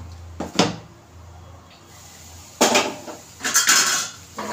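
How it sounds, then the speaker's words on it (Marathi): Potato bhaji is stirred in a pot, heard as several close bursts of metal-on-pot clatter and scraping separated by quiet gaps, with a short knock near the start. "आता चांगले हलवून घ्यायचे"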